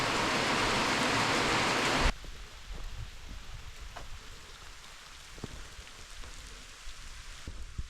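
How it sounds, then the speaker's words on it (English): Heavy rain during a Florida storm pours as a dense roar for about two seconds, then drops to a softer, steady patter of drops on surfaces. "I love the rain when I've got somewhere to hide from it."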